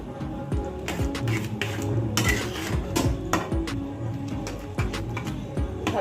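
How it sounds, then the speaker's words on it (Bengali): A spoon clinks and scrapes against a pan while flour is stirred into white sauce for pasta, with irregular sharp taps repeating throughout and a soft voice in the background. "ভালো করে এটাকে মিশিয়ে দেবো ময়দাটাকে দিয়ে।"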